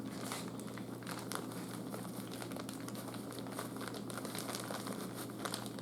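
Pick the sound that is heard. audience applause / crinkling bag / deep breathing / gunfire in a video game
crinkling bag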